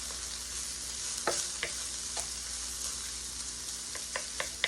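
Garlic fries in a pan with a steady, soft sizzle while a utensil stirs it, adding a few light scrapes and taps against the pan at close range.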